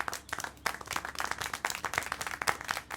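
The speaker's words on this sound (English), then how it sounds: "How can you clap?" Clapping in the adventure game Syberia: The World Before, a small group of hands clapping in an irregular, moderately quick rhythm, fairly faint and without talk.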